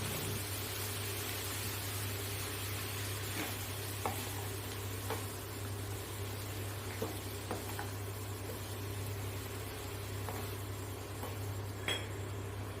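Radish poriyal stirred with a spice mixture in a pan, soft scraping and occasional utensil clinks over a quiet steady sizzle and low hum.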